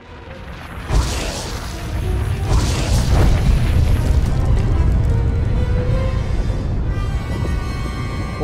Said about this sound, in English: Orbital weapon satellites right over our heads. They're firing on Makeb.